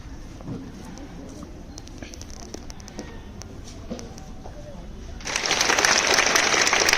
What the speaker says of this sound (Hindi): जैसे ही ध्वजारोहण होगा आप लोग तालियां बजाएंगे।